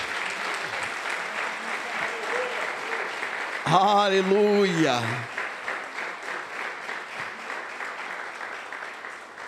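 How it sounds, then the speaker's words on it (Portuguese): A church congregation applauding during a celebration service, loud sustained clapping throughout, with a voice briefly calling out over it. "Então aplauda bem forte esse Jesus."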